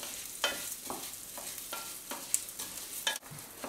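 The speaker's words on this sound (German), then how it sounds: "Jetzt tun wir den Reis dazu. Den braten wir jetzt ein bisschen mit" Risotto rice for a porcini risotto frying in a pan over medium heat, stirred with repeated scraping strokes about every half second over a soft steady sizzle, close and clear with no talking.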